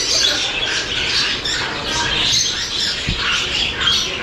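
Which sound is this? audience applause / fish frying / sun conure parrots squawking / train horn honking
sun conure parrots squawking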